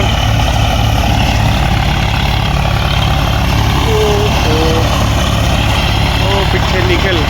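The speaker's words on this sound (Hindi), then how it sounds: "ये है ट्रैक्टर।" A tractor's engine runs at idle outdoors on a village farm, a loud steady low rumble throughout, close by, with someone speaking over it.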